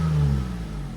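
A custom-lowered 2012 Toyota Sienna with a muffler delete revving: a brief, loud, deep engine blip up close that peaks early and then eases off into a lower rumble.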